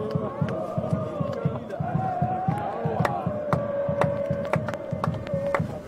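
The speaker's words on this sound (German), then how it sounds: "Sehen wir nur noch den Jubel" Football crowd at a Schalke 04 U23 versus Alemannia Aachen match cheering a goal, a dense roar with rhythmic chanting and clapping, a commentator speaking over it.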